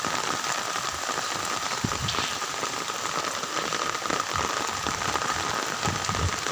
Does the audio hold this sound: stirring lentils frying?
no